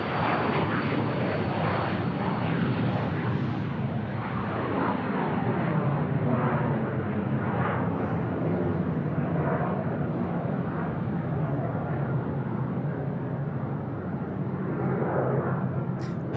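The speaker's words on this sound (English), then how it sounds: "I can hear some F-35s above us." F-35 fighter jets flying overhead fill the air with a loud, sustained roar that swells and eases slightly but never drops away, with no voices.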